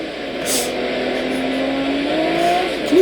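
Race car lapping a track, its engine a sustained mid-pitched drone that swells and rises in pitch near the end, with a brief hiss early on and no voices.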